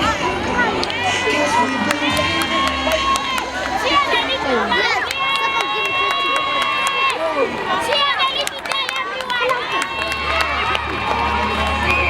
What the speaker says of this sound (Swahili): Makofi kwao wanapomaliza jamani.